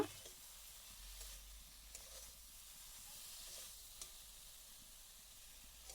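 A low, steady sizzle of spices frying in a pan for an okra dish, quiet and continuous, with a few faint scrapes of stirring.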